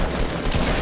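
A dense burst of rapid gunfire from a Fortnite Battle Royale match crackles loudly for under a second, close and continuous, with no talking over it.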